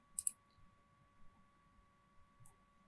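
A couple of quick, faint mouse clicks in ETABS software near the start, with a softer click later, over a quiet background hum.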